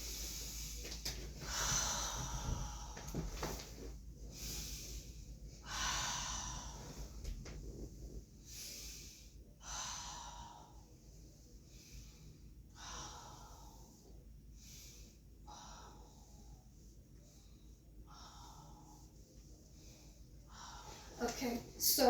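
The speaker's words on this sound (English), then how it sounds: "Just take a deep breath" Deep, slow breaths drawn in and pushed out during a chest examination in a head-to-toe physical assessment, a series of airy hissing inhalations and exhalations close to the listener, with a voice faintly present in the background.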